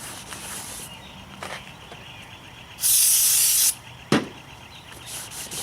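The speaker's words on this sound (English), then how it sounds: "I like to take some brake clean, and I do recommend always using BMW parts and clean the friction surface where the pad's gonna ride." Brake cleaner sprayed onto the friction surface of a BMW E83 X3 brake rotor: one loud, steady hiss lasting under a second, with a few shorter, fainter spritzes and a sharp knock nearby.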